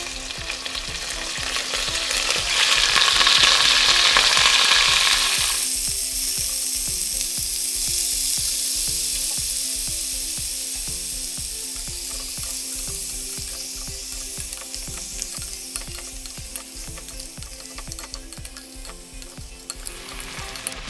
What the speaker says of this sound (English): So we want to cook the mutton for at least 10 to 15 minutes until it's caramelized like this.